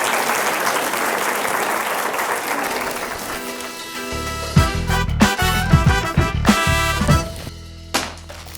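Audience applause for a school folk-instrument orchestra at an arts event, a dense wash of clapping that fades into scattered musical tones and plucked instrument sounds as the orchestra begins.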